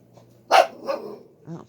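Molly, a pet dog, lets out a few sharp barks at the neighbors, fairly close, with a short gap before a final softer bark.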